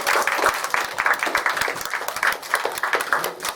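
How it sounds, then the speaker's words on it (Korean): Church congregation clapping together at a Sunday service, a dense, steady patter of many hands for a few seconds, fairly close. "우리 박수 한번 치겠습니다."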